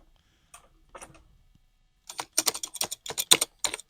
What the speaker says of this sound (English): So the regular keys are kind of clicky